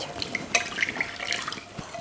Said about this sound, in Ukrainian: Додаємо сюди теплу воду, вода повинна бути приблизно градусів 30-35.